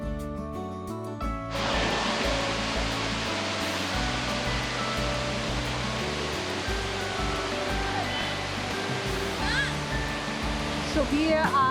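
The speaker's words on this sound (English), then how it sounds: "So we are right now at Honnammana Falls." Honnammana Falls near Jhari Falls in Chikmagalur roars as a loud, constant broadband rush of falling water. It swells in abruptly after a brief quieter opening with some tonal sounds, then continues unbroken close by.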